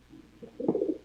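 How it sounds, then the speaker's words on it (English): A hen pigeon gives a soft, close coo, a short low murmur that swells into a brief throaty call in an otherwise quiet space. "Now, this is what I call one hell of a hen bird."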